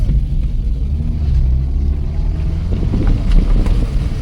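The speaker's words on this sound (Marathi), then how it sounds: "ट्रॅक्टर चाललाय समोरून" A tractor's low, steady engine rumble with wind buffeting, the motor droning nearby and rising slightly as it passes along rice fields.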